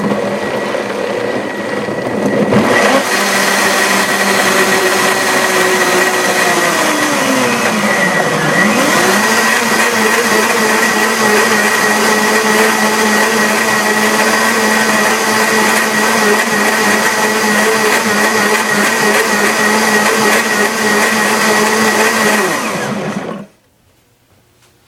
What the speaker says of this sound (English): So turn your volume down. We're going to mix this.